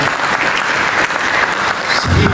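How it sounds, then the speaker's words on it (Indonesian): A church congregation claps loudly during a sermon, a dense continuous round of applause filling the room from start to finish. "Mari kita berikan tepuk tangan bagi Yesus."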